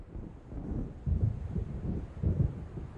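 Low rolling thunder from an approaching storm near the water in Alan Wake Remastered, a soft continuous rumble that swells twice, carried on wind noise.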